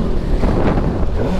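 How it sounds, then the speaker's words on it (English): Strong storm wind buffeting a microphone outdoors, a dense, loud, continuous roar of gusts with low rumbling throughout. "Man, that storm's putting out some wind."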